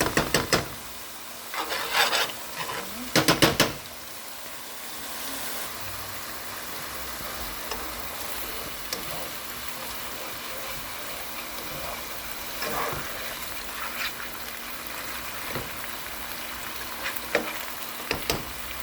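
Ground beef fries with garlic in a pot for a one-pot taco spaghetti, opening with a few loud scraping stirs before settling into a steady, close sizzle with occasional light spoon knocks.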